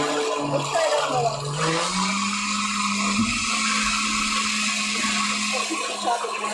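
A blender chops moss with a continuous loud, high whirring roar that holds steady and shifts pitch slightly as the blades work through the plant material.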